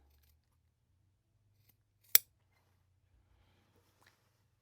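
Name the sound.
scissors trimming the ends of quilted fabric binding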